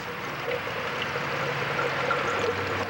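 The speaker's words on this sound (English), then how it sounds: "the water's flowing right through there at this time" Water flowing through a channel, a soft steady rushing and trickling wash heard from close by, continuous and fairly quiet with no voices.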